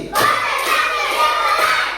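Classroom of students doing the tepuk konsentrasi clapping chant, a loud burst of group claps and voices shouting together across the whole span, with a couple of stronger clap accents.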